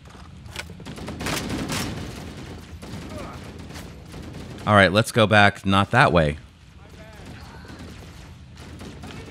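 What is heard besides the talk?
gunfire in the video game Halo: The Master Chief Collection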